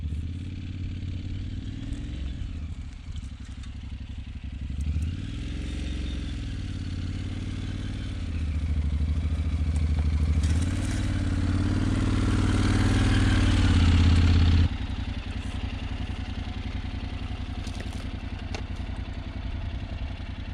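Motorcycle engine running and idling close by while the bike is eased into a parking spot in a sheltered mountain setting in New Mexico, a steady low rumble that swells with throttle blips near the middle, then settles back.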